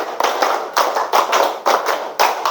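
A class of fifth-grade pupils claps together in a counting clap game, producing sharp, loud groups of claps in a quick rhythm with short pauses between the bursts.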